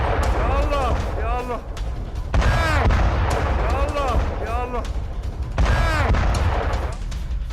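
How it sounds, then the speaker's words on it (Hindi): Israeli air strike explosions rock an area of Lebanon. Heavy, rumbling booms roll through in repeated waves with loud low-end thuds, mixed with raised voices throughout. "धमाकों से दहला है ये पूरा इलाका भी।"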